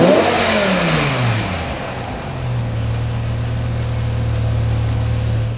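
A 2006 BMW M5's 500-horsepower V10 fires up with a loud rising rev, dips back, then settles into a steady, throaty idle, close and clear with no talk.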